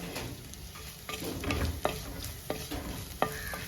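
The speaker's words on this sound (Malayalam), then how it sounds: "ചതച്ച മുളകായതുകൊണ്ട് തന്നെ എണ്ണയിലേക്ക് കിടക്കുമ്പോൾ പെട്ടെന്ന് തന്നെ അതിൻ്റെ പച്ചകുത്ത് മാറിക്കിട്ടും." Crushed red chili fries in hot oil for Kerala-style beans mezhukkupuratti, a quiet close sizzle broken by a few sharp clicks and scrapes of stirring in the pan.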